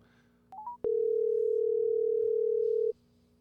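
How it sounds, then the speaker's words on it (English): A telephone dial tone plays while a call is placed: a few short beeps, then one steady, loud tone held for about two seconds before cutting off. "So I'm fixing to call him and let's see if we can get him to answer the phone."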